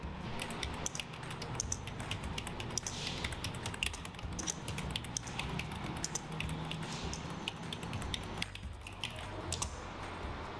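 Fast, continuous clicking of a computer keyboard as parcel details are entered at a shipping counter, quiet and close, with steady irregular keystrokes over a low room hum.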